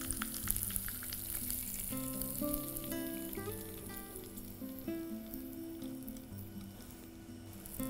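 Hot tempering poured into a stew sizzles and crackles steadily in a home kitchen, a close, moderately faint frying hiss with bubbling and scattered pops, no voices.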